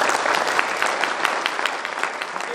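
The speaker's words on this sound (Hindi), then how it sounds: "ताली बजा दो भाई" Steady crowd applause at a meeting's trophy presentation, many hands clapping together in a dense, even wash at close range with no pauses.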